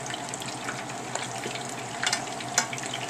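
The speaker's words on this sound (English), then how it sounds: "You don't want to cook it, you just want to sear it. It's popping" Meat for a Chamorro pot roast searing in a hot pan, with a steady close sizzle and a few sharp pops and spatters breaking through near the end.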